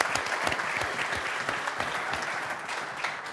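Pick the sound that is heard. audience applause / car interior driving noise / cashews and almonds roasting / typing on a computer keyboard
audience applause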